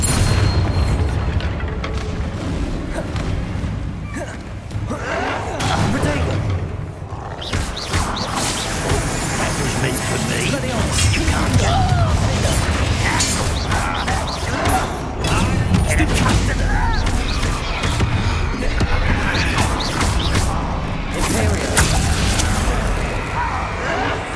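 Spell explosions and magical combat in the video game Hogwarts Legacy: loud booming blasts, crackling bursts and rumbling impacts pile up continuously through a hectic fight, with voices shouting over the chaos.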